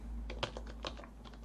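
Keystrokes on a computer keyboard while setting up the i3 window manager on ArcoLinux, a quick irregular run of sharp clicks, close and fairly quiet over a steady low hum.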